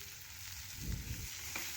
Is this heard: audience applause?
no